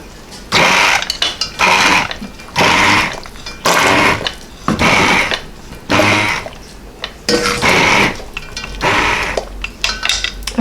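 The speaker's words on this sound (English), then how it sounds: "hand blender" A hand blender breaking up peaches for a spiced peach rum sauce whirs in repeated loud bursts, about eight pulses separated by short pauses, with some clinking against the pot.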